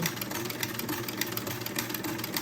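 A vintage buttonhole attachment stitches a buttonhole on a sewing machine, producing a steady, rapid mechanical whirring chatter at moderate volume, continuous and without speech.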